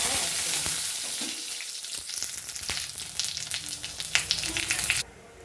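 Cumin seeds and dried red chillies frying in hot oil give a steady close sizzle and crackle with a few sharp pops and stirring scrapes, cutting off abruptly near the end.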